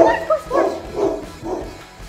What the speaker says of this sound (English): That was crazy. Instant bark.